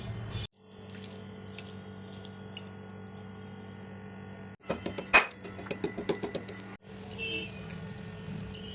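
Onion and garlic being chopped with a knife on a board, a quick run of sharp, close taps in a steady rhythm midway through, with quiet kitchen background before and after and no talking.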